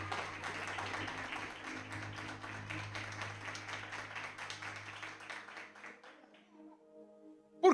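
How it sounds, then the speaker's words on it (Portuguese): A church congregation applauds during a sermon, a steady dense patter of many hands under a sustained organ-like musical pad, tapering off toward the end before a brief sharp knock. "Pode aplaudir a Jesus, não tem problema não."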